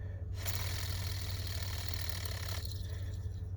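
Buzzbait prop spinning with its arm bent back so the blade no longer strikes the head, a steady close whirring buzz with no clacking, rising abruptly and then easing off near the end.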